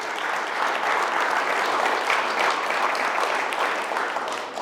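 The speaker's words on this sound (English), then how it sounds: "So let's give them a round of applause." A crowd applauds steadily at a high school Hall of Fame induction ceremony for committee members coaching games that night, the clapping holding dense and even throughout.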